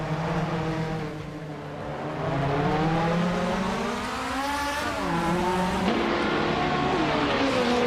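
Racing car engines, including a 1977 Toyota Celica Turbo, roar in a racing video game. The loud, sustained drone rises and falls in pitch as the cars accelerate and shift.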